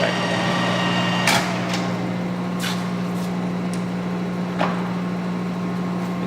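A Clausing Colchester 13x40 metal lathe running at 770 RPM, giving a steady low mechanical hum with a constant tonal drone, broken by a couple of sharp knocks or clunks near the start and middle.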